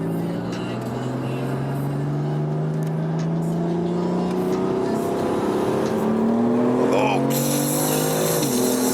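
Mazda RX-7 FD with a boost leak accelerating hard, engine rising through revs with a brief tire squeal, loud and close from inside the car, with people talking over it.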